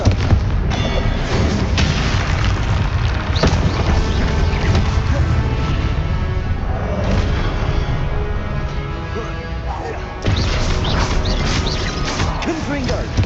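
Confringo spell blasts in Hogwarts Legacy, heavy booming explosions and crashes that keep going under game music and spoken voices.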